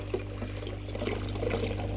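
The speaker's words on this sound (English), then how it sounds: "Now I'm going to put some more hot water in" Hot water pouring steadily into a beaker during gold refining of jewelry, a continuous faint liquid trickle with a low hum beneath, no talk.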